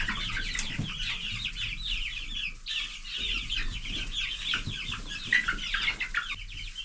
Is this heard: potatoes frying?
no